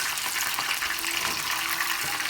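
Chicken kebabs fry in a pan over medium-high heat, giving a steady, close, loud sizzle and crackle that lasts throughout, with no voices.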